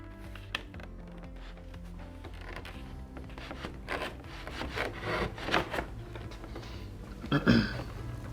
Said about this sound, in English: the frame literally just pulls apart like this